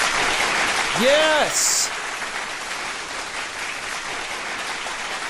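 An audience at a dating-advice talk breaks into sustained, moderately loud applause that carries on evenly, with a brief spoken word rising over it near the start.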